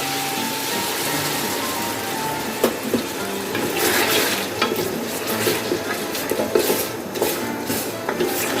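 A cup of oil goes into tender cooked mutton for a white karahi, giving a loud steady sizzle and frying hiss with scraping stirring strokes and small clacks throughout.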